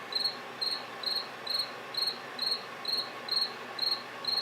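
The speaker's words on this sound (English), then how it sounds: "Crickets." Cricket chirping sound effect: about nine evenly spaced trilling chirps repeat roughly twice a second, thin and fairly quiet over a faint hiss, with nothing else.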